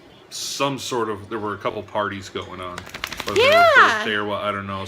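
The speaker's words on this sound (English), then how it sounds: "so if you hear them in the background, they're just local fireworks." Local fireworks in a town pop and crackle in a quick cluster of sharp bursts, partly buried under a person talking close by.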